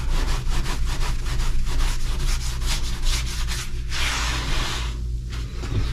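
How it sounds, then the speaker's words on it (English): A wet sponge wipes excess grout off a tiled bathroom vanity backsplash, making steady close rhythmic rubbing and scrubbing strokes that repeat without pause, with a brief wetter swish near the end. "I got all the excess grout off with the wet sponge"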